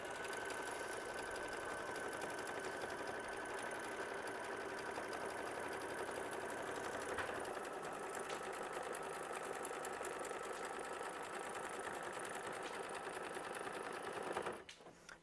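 A sewing machine runs steadily, stitching down quilted butterfly half-square-triangle fabric pieces in a fast, even whir for about fourteen seconds before stopping abruptly, with no talk over it.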